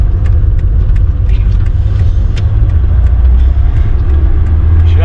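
Small 1.1-litre engine of a 1989 Peugeot 205 XL three-door pulling at low revs while driving, a steady close low rumble with road noise throughout, no talk over it.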